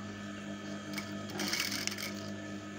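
A sewing machine runs at close range, stitching elastic into the waistband of a long skirt, a soft steady whir that rises briefly in a short burst of stitching.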